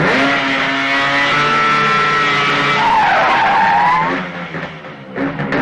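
A car speeds off with a long, loud tire skid and engine roar, close and continuous, the squeal sliding in pitch before fading as the vehicle pulls away; no one speaks.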